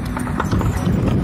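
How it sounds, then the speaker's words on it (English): A Suffolk heavy horse's hooves clip-clop on the ground at a working horse rally, a quick run of close, firm beats heard briefly with faint voices in the background. "You can learn more about our living heritage, the Suffolk horse"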